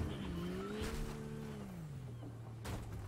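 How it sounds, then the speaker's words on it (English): A car in Fortnite revs as it is driven up a ramp and flipped, its engine tone rising then sliding down in pitch, with a brief clatter near the end. "I'm just gonna grab the car and we're gonna try to flip it like this"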